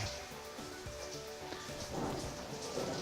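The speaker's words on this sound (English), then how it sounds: "Oh yeah, it's raining again." Rain falls outdoors during a Florida brew day, a steady, moderately loud hiss of drops on surfaces with occasional low rumbles underneath, continuing evenly throughout.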